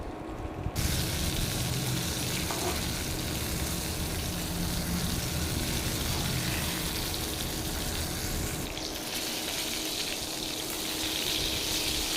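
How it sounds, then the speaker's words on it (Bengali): Eggplant slices frying in hot oil in a home kitchen, a steady loud sizzle that runs unbroken, dips briefly near the end and then carries on, with no talking. "গরম হয়ে গেছে বেগুনগুলো দিয়ে দিই"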